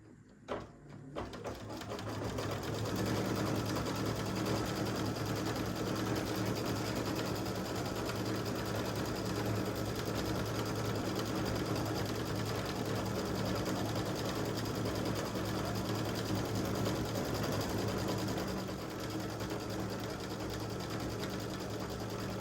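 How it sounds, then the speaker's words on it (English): Embroidery sewing machine stitching out stippling on an in-the-hoop mug rug: a steady, loud, close mechanical whir of rapid stitching that runs continuously for about twenty seconds after a brief start, with no voices. "Now the next thing it's going to do is stitch out this stippling."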